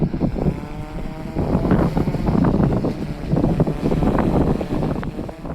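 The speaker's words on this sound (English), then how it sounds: "This is just by pure wind. That's how windy it is here." Strong wind buffets the microphone out on Wilcox Playa, a loud continuous roaring rumble with gusty swells and low flapping, no voices over it.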